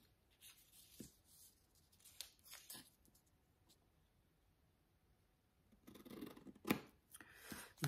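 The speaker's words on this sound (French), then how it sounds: "je vais couper avec ces ciseaux-là." Scissors cut through paper for a magazine journal craft project, giving a series of soft, close snips and rustles, quiet at first and then louder near the end.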